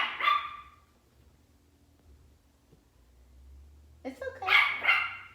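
A dog barks at a garbage truck from a window, a short burst of barking at the start and again near the end, fairly close, with low engine rumble between; a brief spoken phrase comes near the end.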